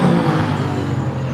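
McLaren, BMW M8 Competition and Mercedes GT race cars at a GT Brit event at Silverstone, heard as a loud, steady engine drone close by, with no talk over it.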